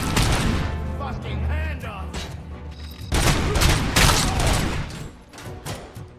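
Repeated grenade launcher explosions and heavy gunfire in RoboCop: Rogue City, loud and dense with bursts, a booming blast near the three-second mark, then more blasts.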